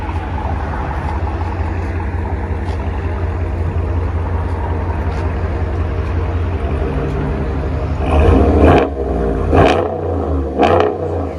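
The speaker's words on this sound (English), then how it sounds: "There's the Corsa system right there." A RAM 1500 with the 5.7L Hemi and a Corsa cat-back exhaust idles with a deep, steady rumble, then revs in a few sharp bursts near the end.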